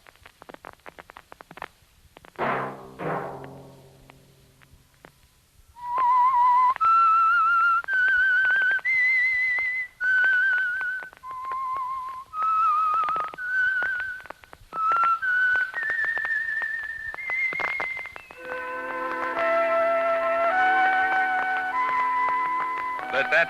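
A clear whistled melody of sustained notes rises and falls, preceded by a short burst of noise and ending with fuller musical accompaniment.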